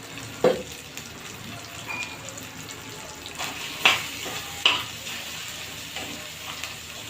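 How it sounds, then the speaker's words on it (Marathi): Green chili thecha sautéing in oil in a pan, giving a soft steady sizzle with a few sharp clinks of a spatula against the pan at intervals. "बघा इथे माझा ठेचा परतत आलेला आहे"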